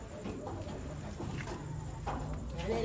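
Chickens clucking intermittently in the background, short scattered calls over a steady outdoor hum with faint murmuring.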